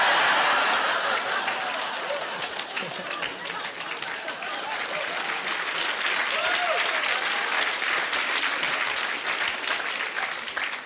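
Audience applause at a stand-up comedy show, a loud sustained wash of clapping from a full crowd, with scattered chuckles mixed in.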